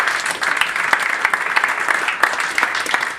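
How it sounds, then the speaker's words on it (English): Audience applause for a couple celebrating 23 years together at a comedy show, dense steady clapping from a crowd throughout, fairly loud and close, with no talk over it. "Give him a clap here."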